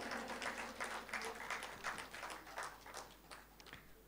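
Applause rises from the audience at a music program for new singers, a soft, steady patter of many hands that sounds distant and gradually thins toward the end.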